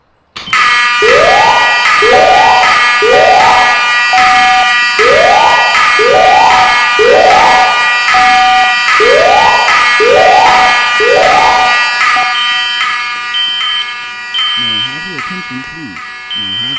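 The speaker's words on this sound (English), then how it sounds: "As I head inside to pull the BGA to start the fire alarm test" A Simplex building fire alarm under test blares loud, very close repeating whooping sweeps in a steady rhythm, then shifts to a different warbling tone near the end.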